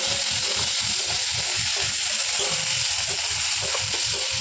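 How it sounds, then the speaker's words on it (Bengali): Chopped tomatoes with onion and green chillies frying in hot oil in a pan for a home-style mushroom curry: a loud, steady sizzle that fills the whole stretch, with a faint rhythmic stirring underneath. "তো তার মধ্যে এবার দিয়ে দেবো কেটে রাখা টমেটো কুচিগুলো, দিয়ে ভালো করে এটাকে আমি কষাতে থাকবো।"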